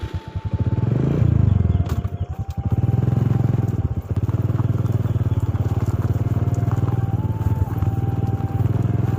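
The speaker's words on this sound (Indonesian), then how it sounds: "saya akan naik motor" A motorcycle ridden through the grounds of a Buddhist temple complex, its engine running steadily and loud and close, with the revs rising early, brief rattles and clatter, and a high tone droning on top.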